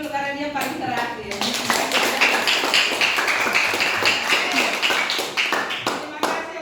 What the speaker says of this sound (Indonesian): tepuk tangan untuk Ricky dulu karena dia paling terakhir.